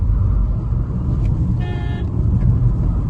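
A Tata Punch EV electric car driven in sports mode gives a steady, loud low road rumble and cabin drone with a brief faint tone partway through, no voices present.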